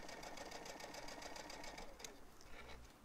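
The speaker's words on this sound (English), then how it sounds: "I'm going to start sewing. Okay, and I'm just doing a quarter inch seam allowance" A sewing machine stitches a quarter inch seam on a face mask, a faint, steady rapid chatter of needle strokes throughout.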